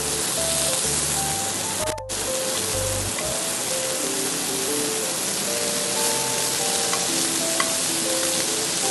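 Scallops sear in a hot frying pan with a continuous, close sizzle that stays steady and fairly even, with no talking.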